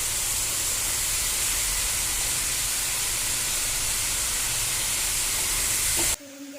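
Broccoli and green peas fry in a hot pan with turmeric, red chili powder and spice mix, giving a loud, steady hiss and sizzle that runs unbroken for about six seconds before cutting off abruptly.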